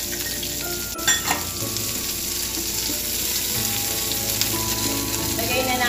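Onion and garlic sizzle steadily in a hot pan for a shrimp gambas dish, a constant loud frying hiss with a brief clatter of stirring near the start.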